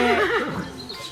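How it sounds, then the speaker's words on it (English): A horse lets out one loud, close whinny that wavers up and down, then trails off into quieter breathy noise. "a horse"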